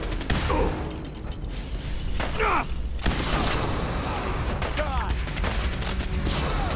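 Rapid bursts of gunfire in Fallout 4 during a Brotherhood of Steel firefight, loud and continuous, mixed with mechanical clanks and creaks and dense battle noise.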